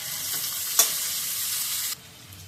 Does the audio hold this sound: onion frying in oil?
yes